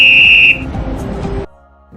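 A traffic policeman's whistle gives one sharp, loud, shrill blast lasting about half a second, followed by a low rumble of nearby traffic before it goes quiet.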